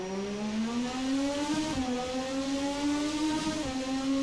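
A 1988 McLaren F1 turbo car engine holds a high, steady drone with two brief dips and recoveries as the revs are built up, loud and close with no talk.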